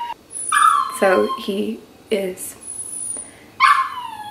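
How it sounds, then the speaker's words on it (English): A dog confined in a crate whimpers and yips in a run of high, wavering cries with short pauses, close by, while a person talks over it. "And that's my dog over there."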